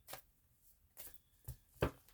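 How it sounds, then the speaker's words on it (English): Tarot cards being shuffled in a few short, separate bursts of riffling, soft and close, with quiet pauses between them and no talking. "One more shuffle."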